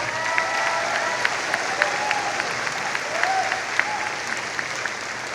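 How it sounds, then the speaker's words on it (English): Steady applause from a crowd at a school graduation ceremony, a continuous wash of clapping with a few sharper individual claps standing out, sustained throughout. "Nick and little Miss Billy, I want us to give them another hand of applause."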